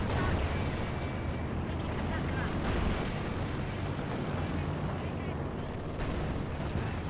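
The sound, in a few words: artillery bombardment in video game Company of Heroes 2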